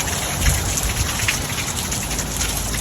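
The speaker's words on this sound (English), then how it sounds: "but it is raining a bit" Rain falls outdoors on a house with freshly finished stucco, making a steady, dense patter and hiss with small drop impacts throughout, fairly loud and close, with no voices.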